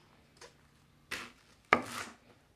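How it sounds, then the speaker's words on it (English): Three separate knife chops cut leek into big chunks on a board for Roman cabbage rolls, spaced irregularly, close and quiet with no talk. "We cut the leek into big chunks"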